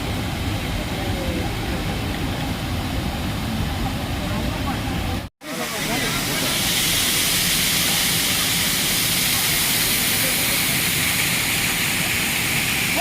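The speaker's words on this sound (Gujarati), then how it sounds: "આ જમજીર ધોધ ધોણેશ્વરથી ત્રીસ કિલોમીટરના ડિસ્ટન્ટે આવેલો આ સુંદર મજાનો વોટરફોલ છે" The Jamjir waterfall in the Gir forest roars as a steady, dense broadband rush, loud and continuous apart from a brief dropout near the middle.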